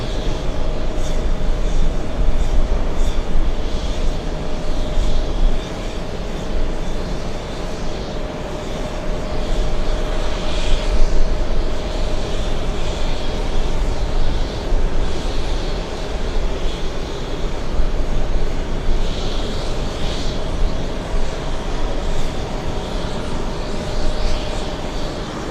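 A British Airways airliner, Speedbird 115, at JFK produces a loud, sustained jet roar with a steady tonal hum, rising and falling slightly over a long stretch without talk.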